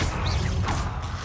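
The Confringo blasting spell in the video game Hogwarts Legacy, a brief loud whooshing burst with a crashing, creaking impact.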